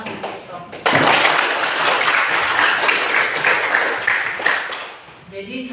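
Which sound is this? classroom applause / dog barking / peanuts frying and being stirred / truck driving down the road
classroom applause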